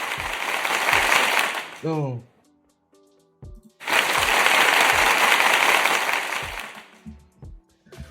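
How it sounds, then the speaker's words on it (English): Crowd applause for a newly crowned NXT men's champion: two loud bursts of clapping with a quieter gap between them where a voice and some clicks come through, then the cheering tapers off. "Let us give an applause."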